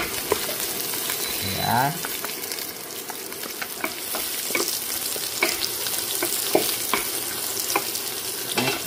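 Ginger frying and sizzling in a pan with steady crackle and occasional stirring scrapes, close up, a brief voice heard once early.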